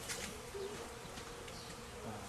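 Honey bee swarm buzzing steadily around a clump of bees on a branch outdoors in Rochester, NY, a continuous moderate drone with no speech.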